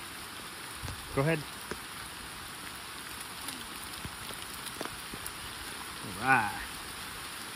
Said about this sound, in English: Got some raindrops are falling on the camera.